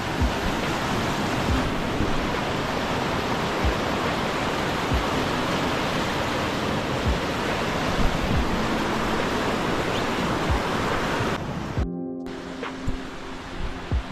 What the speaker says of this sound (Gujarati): નીચે પિન નદી વહી રહી છે